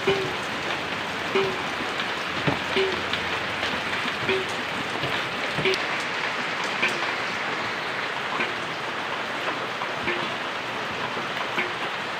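Steady, heavy rain pours down on an island without a break, a dense hiss of drops with occasional louder taps nearby.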